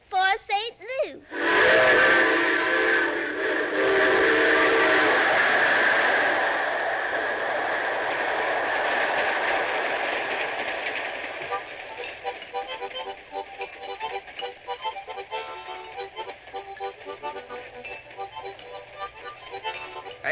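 Train journey sound effect from an old radio drama: a loud whistle blast opens, then a steady rumble and clatter of moving rail cars carries on throughout.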